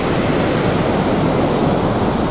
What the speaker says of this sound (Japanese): 海ですね。